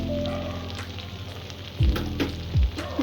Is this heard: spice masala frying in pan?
yes